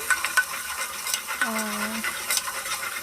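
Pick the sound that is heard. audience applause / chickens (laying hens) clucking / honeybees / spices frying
spices frying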